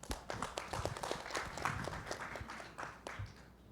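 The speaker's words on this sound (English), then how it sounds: "And now a round of applause for Dr." A smaller audience at a Philippines-Indonesia creative economy roundtable claps for a speaker, with distinct individual hand claps audible in a close, moderately quiet burst of applause.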